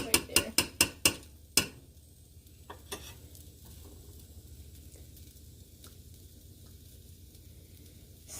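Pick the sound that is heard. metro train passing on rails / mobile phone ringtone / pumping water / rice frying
rice frying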